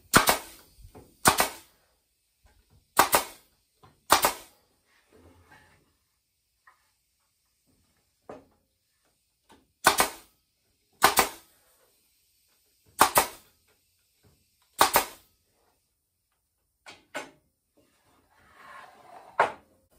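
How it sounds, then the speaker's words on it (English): A staple gun fires into the wooden slats of a beehive slatted rack, sharp loud snaps coming singly and in quick pairs with quiet gaps between them. "I can go ahead and staple it."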